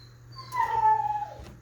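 A neighbor's dog whimpers and lets out a single drawn-out howling whine that bends downward, somewhat distant and alone over a low background hum.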